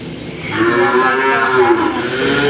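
A cow on a livestock farm gives one long, loud, sustained moo lasting about two seconds, close by and alone with no talk.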